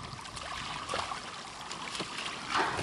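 Water sprays and splashes from an H2O Go! water slide on a hot Florida summer day, a faint steady hiss broken by a few sharper splashy bursts.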